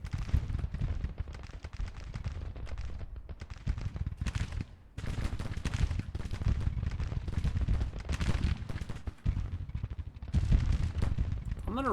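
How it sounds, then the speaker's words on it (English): Sustained barrage of artillery fire in the Civil War strategy game Grand Tactician, loud dense booms and crackling volleys rolling continuously with a brief lull near the middle, no voices. "Alright, the artillery."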